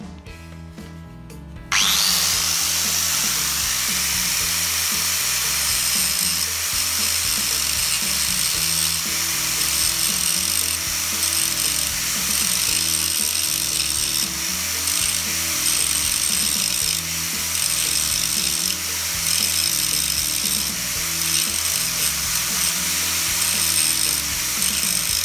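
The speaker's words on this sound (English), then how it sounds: "So we've got to trim the bolt to size, that's what we're going to do now." A power tool grinds steadily through a bolt being trimmed to size during a Hobie 14 mast spanner install, starting abruptly after a brief pause and running loud and continuous with a rattling, ratchet-like texture throughout.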